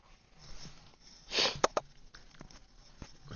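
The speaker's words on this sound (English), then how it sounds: "I need to blow my nose, you guys." A person clears their nose with a short sniff and a strong, close nasal blow, followed by a couple of quick sharp snorts, then quiet.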